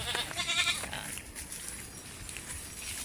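A farm goat gives a loud, wavering bleat close by, followed by a quieter stretch of outdoor background noise.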